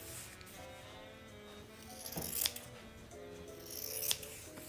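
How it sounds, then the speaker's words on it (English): Scissors, not fabric shears, trim loose frayed edges of fabric, giving two distinct close snips a couple of seconds apart over a quiet background hum. "All you're doing is just tidying these loose frayed edges."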